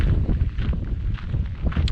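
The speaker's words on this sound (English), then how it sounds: "Apologies if it's too windy" Heavy wind buffets a microphone outdoors during a walk, a close, continuous low rumble with gusty swells and faint footstep-like thumps.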